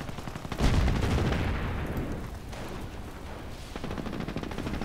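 An incendiary barrage from the Panzer Elite in a real-time strategy battle, a loud rumbling wash of blasts that swells early, then rolls on in a dense, continuous roar with a second surge near the end.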